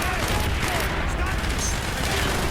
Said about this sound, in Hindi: मोर्टार दोबारा से फायर हो रहे हैं